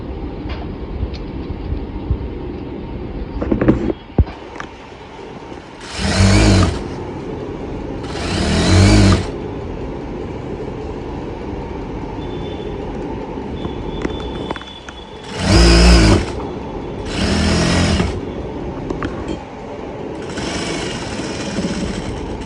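Sewing machine stitching blouse fabric in several separate bursts of rapid mechanical whirring, each a few seconds long, with quieter handling and faint rustling between runs.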